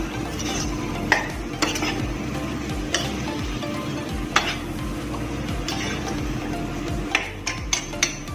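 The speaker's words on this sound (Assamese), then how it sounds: "এতিয়া ইয়াত মাংসখিনি দি দিম। মাংসখিনি দি দিয়াৰ পিছত এতিয়া এইখিনি খুব ধুনীয়াকৈ মিক্স কৰিম" Goat mutton stirred into spices in a pan: a steady sizzle under repeated scraping strokes of a metal spoon, with sharp clinks against the pan every second or so, close and without talk.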